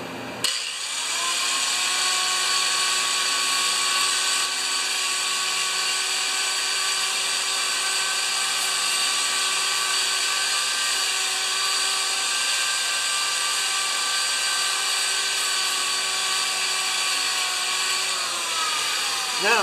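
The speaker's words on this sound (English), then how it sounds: "I'm just going to take the deposits off the top of this piston lightly" A small power tool whines at a high, steady pitch as it buffs carbon deposits off the top of a piston in a John Deere TRS 24-inch snowblower engine, running continuously for about twenty seconds before stopping.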